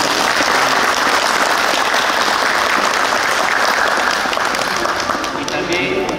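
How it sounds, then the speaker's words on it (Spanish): At a village patron saint festival in Uramaza, Cajatambo, a crowd breaks into loud, sustained applause, thick continuous clapping with some voices mixed in, steady throughout before easing slightly at the end. "Un fuerte aplauso por ellos que están"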